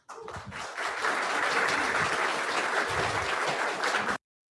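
A debate audience breaks into sustained applause, a thick wash of many hands clapping that holds steady and then stops abruptly.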